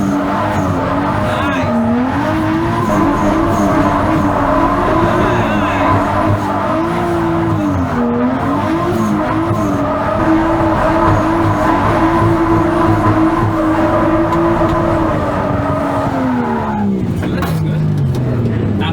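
Nissan Skyline R33 drift car launching and drifting, a loud engine roaring and rising and falling in pitch with throttle, sustained tire noise throughout, with people talking over it.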